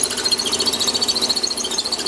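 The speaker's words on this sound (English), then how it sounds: "you can hear the drill deflecting against the side wall" A drill bit turning in a workpiece on a lathe chatters steadily as it deflects against the side wall of the hole, a continuous close whine with a fast rhythmic pulsing and no talking.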